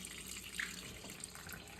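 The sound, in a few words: water draining from boiler into kitchen sink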